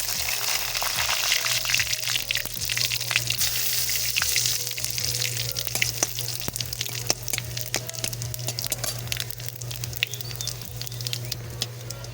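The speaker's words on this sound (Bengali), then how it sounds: "ফোড়নে দিচ্ছি জিরা, একটা তেজপাতা, শুকনো লঙ্কা," Whole spices – cumin, a bay leaf and dried chilli – sizzle and crackle in hot oil for a Bengali egg and brinjal curry, a continuous close frying hiss with scattered pops and a low steady hum underneath.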